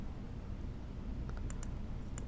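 A computer mouse clicks a handful of times while designing a monogram lunch bag in Cricut Design Space, the sharp, light clicks falling in quick pairs toward the end over a low, steady background hum.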